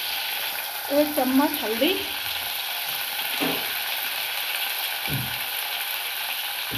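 Spices sizzle and fry in a pan with tomatoes for Gujarati dal dhokli, a steady hiss running throughout with brief stirring scrapes, while someone speaks briefly near the start.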